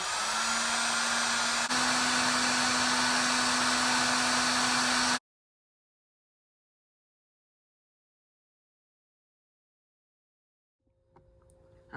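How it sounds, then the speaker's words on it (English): A heat gun warms a swim jig held in tweezers, giving a loud, steady blowing roar with a low hum underneath for about five seconds. It then cuts off abruptly into near silence, with faint handling noise at the end. "Alright, so now that you heat it up with the heat gun,"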